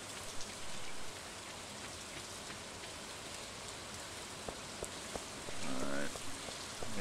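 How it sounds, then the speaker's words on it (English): Steady rain in the video game Stardew Valley patters across the whole stretch, broadband and continuous, with a few faint tonal blips and a brief chirpy sound near the end. "it's also raining."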